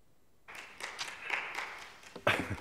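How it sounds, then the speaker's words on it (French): Scattered applause from the MR group leader in a plenary parliamentary session, a few close, uneven claps starting after a short silence and ending on one louder clap, with no voices over it. "Applaudissements de la chef de groupe du MR."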